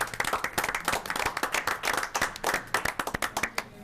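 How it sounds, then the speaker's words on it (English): A school board meeting audience gives the team a round of applause, with quick, uneven hand claps close by and moderately loud over the whole stretch. "So how about one more round of applause for our team?"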